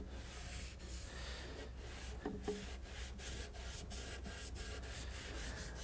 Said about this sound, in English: I'm taking a clean rag and rubbing it in a circular motion. Then the next step is to simply rub it with the grain.